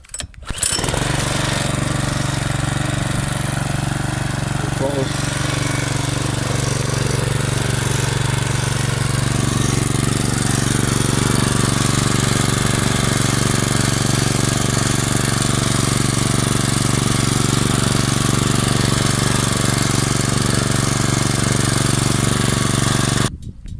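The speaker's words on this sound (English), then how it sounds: "this is the stock engine RPM" A WEIBANG Virtue 53 lawn mower engine starts up and settles into a steady, loud idle at stock RPM with a constant low hum and rattling drone, running alone for the whole stretch.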